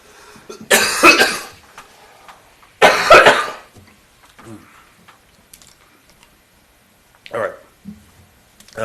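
Two loud, harsh coughs close by about two seconds apart at a city council meeting, followed by a quieter cough a few seconds later, with quiet room sound between.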